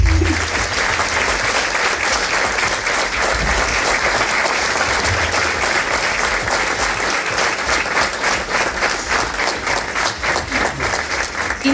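Loud, sustained applause from a large crowd at a bust inauguration ceremony, steady clapping throughout with no pauses.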